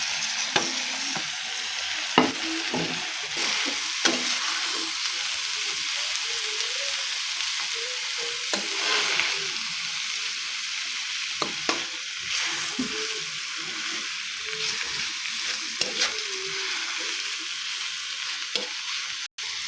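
Tofu sizzling steadily in a hot pan while being stirred, a continuous bright frying hiss with scattered scraping and clinks of a utensil throughout, no talking.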